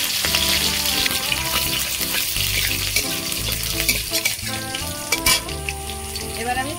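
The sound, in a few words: black cumin and chopped green chili frying in oil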